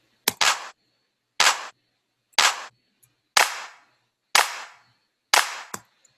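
Layered clap sample from a drum track, six crisp, punchy claps at an even, spaced rhythm, each with a short noisy tail, played alone.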